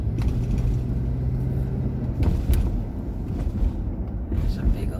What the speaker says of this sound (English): There's a big old RV with a trailer.